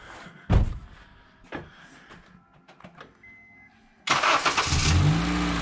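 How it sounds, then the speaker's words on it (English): A car engine with no belt fitted is cranked, catches at about four seconds and settles into a loud, steady idle close by, following a few earlier knocks and clunks. "Go start the car and show them how it's all working."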